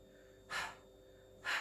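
Two forceful, breathy exhalations during a Pilates exercise, evenly spaced about a second apart, close and fairly quiet against a low steady background hum.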